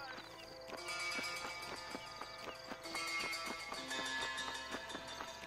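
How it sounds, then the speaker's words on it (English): Horse hooves clip-clop in the Red Dead Redemption video game, a steady rhythmic trot of sharp, evenly spaced knocks running throughout over a faint background bed. "É um cavalo, tio"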